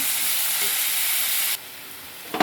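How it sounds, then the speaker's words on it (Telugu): Ingredients for a curry frying in a hot pan on the stove: a loud, steady sizzle for about a second and a half, then a quieter sizzle with a clatter at the end. "ఇవి త్వరగా వేగుతాయి. ఇలా వేగితే చాలు"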